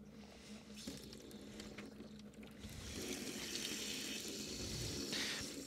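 Hot water draining from a water heater tank drain valve, a soft trickling flow that swells into a fuller, steadier gush after a few seconds, close and fairly quiet.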